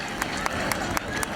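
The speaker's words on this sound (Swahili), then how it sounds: "Piga makofi" A crowd at a peace prayer rally in Uvira claps steadily, a dense patter of many hands spread through the whole moment with a few sharper accents standing out.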